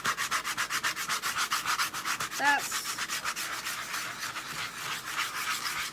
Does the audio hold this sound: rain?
no